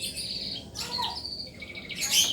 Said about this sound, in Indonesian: sorry nih banyak burung, karena teman gue suka hobinya main burung